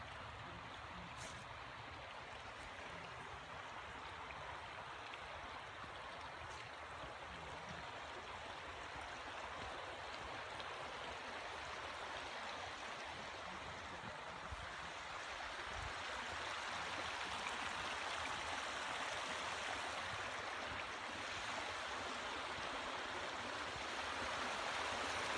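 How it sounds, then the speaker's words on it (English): A creek flowing over rocks on a hiking trail, heard as a continuous close, even rush of water with a faint babble that grows slightly louder toward the end, with no talking. "So we're right on the side of the creek over here."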